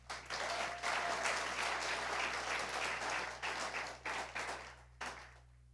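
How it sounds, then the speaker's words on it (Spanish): Sustained crowd applause, loud and dense for several seconds, then breaking into scattered claps that fade out near the end. "un aplauso a ellos, hermano"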